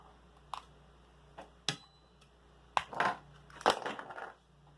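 Fishing line snapped against the small cutting blade on a tackle container, several faint crisp clicks and snips spaced irregularly in a quiet setting.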